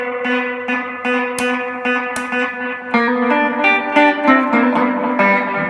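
Guitar notes run through a Binson Echorec echo machine, each pick repeating in dense, layered echoes that smear into a sustained, reverberant wash, loud and steady with no talk.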